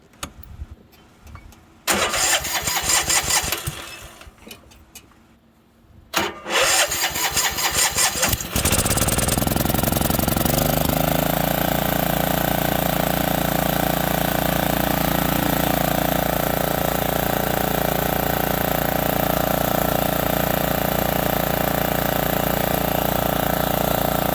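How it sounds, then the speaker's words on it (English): A Craftsman T1000 lawn tractor engine is cranked, catches after a few attempts, then settles into a loud, steady run with no pauses, popping a little as it runs lean with its carburetor not bolted down. "Alright, so let's see how this thing starts up."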